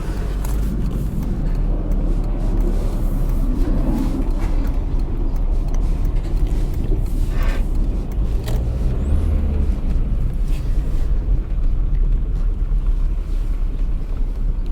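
A 2003 VW Jetta TDI turbo diesel on the move, heard from inside as a steady low engine drone with road rumble and wind noise throughout, no talking.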